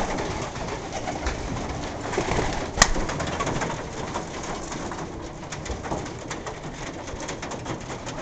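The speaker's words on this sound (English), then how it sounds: "Don't know whose pigeon that is, but it's a pretty one." A pigeon coos at an aviary or loft, soft repeated calls mixed with other birds and steady background noise, with one brief sharp click partway through.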